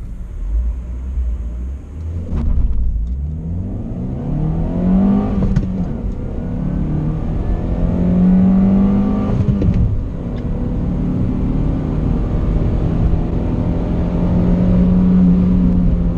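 A Lada Vesta with a 1.8 engine and manual gearbox accelerates hard, its engine note rising through the revs, dropping briefly at gear changes and climbing again, loud and close throughout with no talking.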